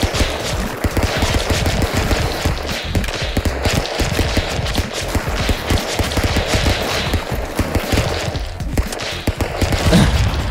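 Rapid, dense gunfire from the video game Stick Fight, a near-continuous rattle of shots and thuds across the whole stretch, loud and steady with no voices over it.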